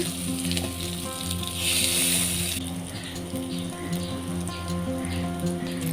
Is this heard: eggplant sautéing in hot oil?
yes